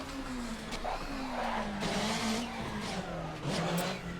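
Race car engine in an Assetto Corsa mod on the Pikes Peak hill climb, a steady droning tone rising and falling with throttle, with bursts of tire skidding and squeal layered over it, continuous and fairly loud with no talk.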